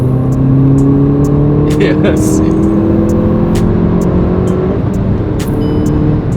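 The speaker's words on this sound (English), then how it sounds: "it's got an amazing exhaust note." An Audi S1 hot hatch pulls hard, its exhaust holding a loud, steady droning note with rising pitch as it accelerates, heard from inside the car over road noise while someone speaks briefly.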